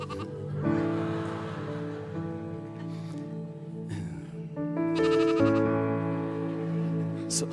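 Sheep bleat close by, a few long wavering cries that overlap and rise in loudness toward the end, with no talking.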